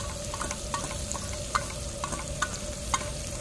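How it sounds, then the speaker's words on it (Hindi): Chopped onions and whole spices fry in oil for a village-style chicken curry, a steady close sizzle with periodic clinks and scrapes of a spoon stirring, no talk. "तो प्याज को अच्छे से फ्राई करेंगे"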